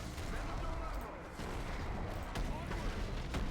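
Artillery barrage in the Edain Mod strategy game, a dense rumbling roll of distant booms and crackling blasts that keeps going throughout, with a voice talking over it.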